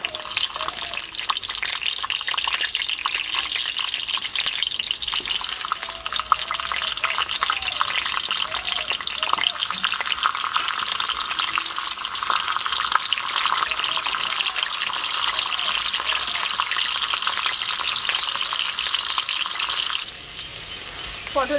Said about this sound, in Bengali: তেলটা গরম হয়ে গেছে, আমি এবার তেলের মধ্যে একটা একটা করে পটল দিয়ে দেব।